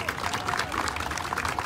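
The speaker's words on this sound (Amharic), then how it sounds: "አንድ ጊዜ አጨብጭቡለት በእናትህ" Crowd at a peaceful demonstration in America applauding, dense rapid clapping from many hands, steady and fairly close, with murmured voices mixed in.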